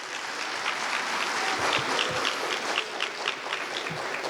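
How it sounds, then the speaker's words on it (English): Steady, moderate applause fills a graduation ceremony hall, a crowd clapping evenly throughout without any talk. "Let's give another round of applause."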